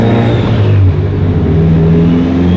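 A Mitsubishi Evo 9 on the move with its engine revving loud and close, a throaty, rising drone holding steady for a couple of seconds without any talk.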